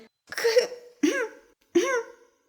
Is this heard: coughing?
yes